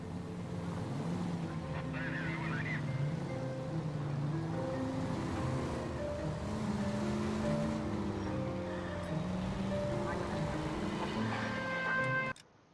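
A period car driven through city streets in the video game LA Noire, a steady engine drone with shifting tones that holds for about twelve seconds before cutting out abruptly, with no talk.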